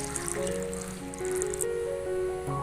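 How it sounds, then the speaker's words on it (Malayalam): Water poured into a pan of chopped green mango, a soft, low trickle and splash heard close up with faint kitchen noise. "ആവശ്യത്തിന് വേവാൻ വേണ്ടി നമുക്ക് കുറച്ച് വെള്ളം ഒന്ന് ചേർത്ത് കൊടുക്കാം"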